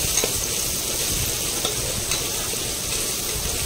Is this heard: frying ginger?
yes